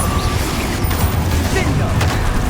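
Confringo fire spell blasts in Hogwarts Legacy, a loud, dense burst of explosive booms and crackling impacts packed into a few seconds of chaotic combat, with a voice speaking over the noise.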